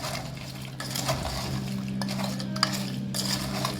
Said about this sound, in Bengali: এবার এটাকে নাড়াবো